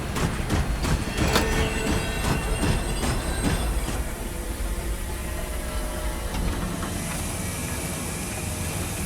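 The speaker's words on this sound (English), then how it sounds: "Train ride was unexpected." Train ride in the video game The Long Dark: a steady rumble of rolling rail cars with rhythmic wheel clatter and occasional metallic squeal, loud and continuous throughout, no speech.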